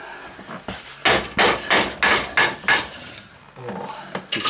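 A hammer strikes a TOKOZ 112 padlock clamped in a vise: about six sharp, loud metallic blows in quick succession, then a softer clattering rattle.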